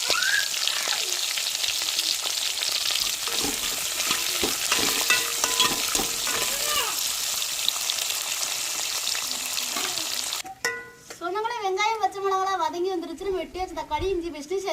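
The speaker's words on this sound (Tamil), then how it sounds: "வெட்டி வச்ச வெங்காயத்தையும் சேர்த்துக்கிறோம் பச்சை மிளகாய் சேர்த்துக்கிறோம்" Chopped onions and green chilies fry with curry masala in a pan for a fish dish, a steady loud sizzle with stirring scrapes over about ten seconds before the frying gives way to a person speaking.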